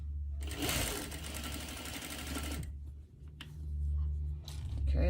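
Sewing machine stitching a neckline on a garment, a close, rapid mechanical chatter in one long burst, then a pause and a couple of short runs.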